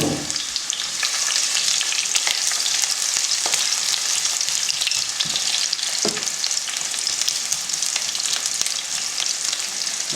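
Onions frying in a pot as the base for a beans stew, a dense continuous sizzle and crackle, close and steady, with occasional faint stirring knocks and no talking.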